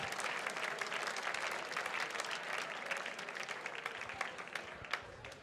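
Audience at a Mountaineers charity gala applauds donors, a steady wash of many hands clapping at moderate loudness for the whole stretch, with no talk over it.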